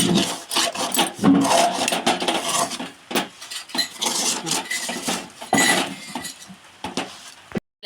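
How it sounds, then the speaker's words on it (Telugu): Sesame powder stirred into thick jaggery syrup for sesame chikki, a spoon scraping and rasping steadily against the pan in close, loud strokes with brief pauses. "మొత్తం బాగా తిప్పేసుకోవాలండి."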